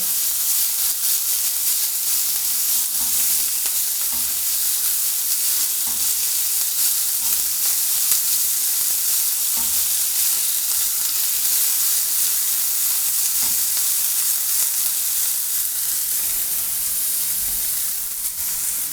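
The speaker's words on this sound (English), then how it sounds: "we're going to add our mirepoix to the same pan and just stir it in" Mirepoix sizzling loudly in the same pan used for beef short ribs, a dense, steady hiss holding throughout with faint intermittent stirring.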